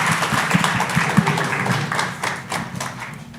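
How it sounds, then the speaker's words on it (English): A conference audience gives a round of applause after a talk, a short burst of close, uneven clapping that tapers off toward the end. "Round of applause,"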